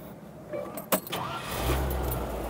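A 1984 Land Rover Defender 110 fires up: a sharp click and brief crank, then the engine catches and settles into a low, steady idle close by.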